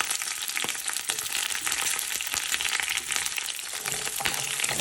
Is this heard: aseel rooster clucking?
no